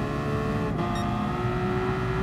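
Race cars running side by side in Gran Turismo Sport at Tokyo, a steady layered engine drone with harmonic whine, continuous and close throughout.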